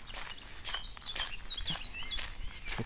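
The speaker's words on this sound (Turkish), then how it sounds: "Çok güzel kuşlar uçuyor." Birds chirping in a park in Denmark, with several short, high calls scattered over soft outdoor background noise and faint footsteps, with no talk.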